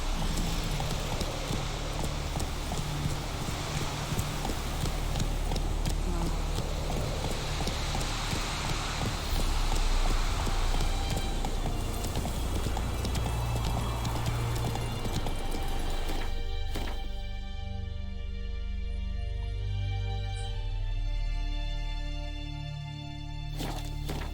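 Roach the horse gallops in The Witcher 3, with rapid, rhythmic hoofbeats pounding continuously over a low background bed. The footfalls ease into a sparser, clearer pattern near the end.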